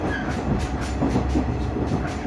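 Ride aboard a Japanese train between Ichinoseki and Matsukawa, with a loud continuous rumble inside the carriage and a rhythmic clickety-clack of wheels over rail joints.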